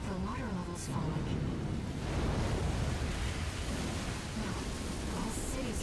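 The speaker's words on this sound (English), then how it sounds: "water level's falling." In Armored Core VI, falling water rushes and surges as a steady, dense roar, like heavy surf, holding at a constant level throughout.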